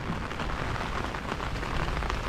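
Heavy rain falls during a storm in a Japanese village, a dense, steady hiss of drops with no voices.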